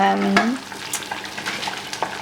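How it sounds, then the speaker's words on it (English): Cheese balls sizzle and crackle in hot oil, with light stirring and scraping sounds, close by and without talking. "Okay, cheese balls frying."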